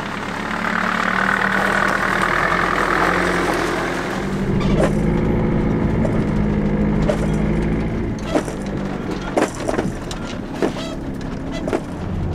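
A vehicle engine rumbles steadily as it pulls away and drives off, a close low drone with rattling and knocking on top that grows busier with sharp clicks and thumps partway through.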